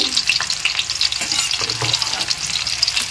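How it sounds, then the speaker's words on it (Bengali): Beans, spring onions and potatoes fry in a pan with a loud, close, crackling sizzle, broken by quick stirring scrapes. "সবজিগুলোকে একটু ভালো করে ভেজে নিচ্ছি।"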